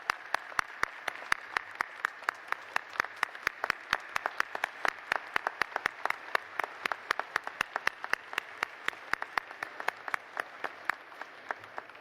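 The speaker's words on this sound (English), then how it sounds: "Please stand and give them a round of applause." A graduation audience applauds the class of 2020 with steady, scattered hand claps, individual claps standing out sharply over a continuous clapping bed for the full stretch.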